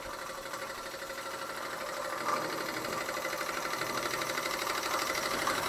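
A small Bing overtype model steam engine runs steadily with a fast, fine mechanical chatter and faint rhythmic ticking, close and quiet, continuous with no talking.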